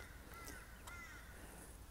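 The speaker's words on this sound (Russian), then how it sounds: "вороны раскаркались" Crows cawing outdoors near a room where orchids are kept, a few harsh calls at moderate distance over a steady low background hum, with no talking.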